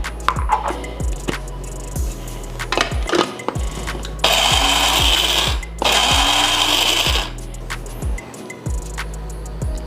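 Spices pounded to coarsely grind homemade lemon pepper seasoning: a steady run of sharp thuds, with two long loud whirring bursts partway through, close up and without speech.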